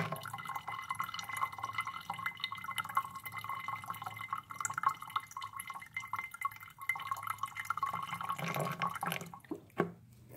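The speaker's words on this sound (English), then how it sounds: "So I'm just going to pour the hydrogen peroxide" Hydrogen peroxide poured into water indoors, a steady trickling, dripping liquid sound that runs through most of the stretch, with a few louder splashes toward the end and no talking.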